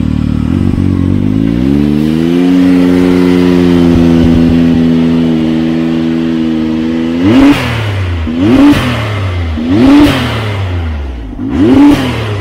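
A big turbo car with a brand new exhaust idles, then pulls away in a long rising surge, followed by four sharp rev bursts at roughly even intervals, loud and close with no talking.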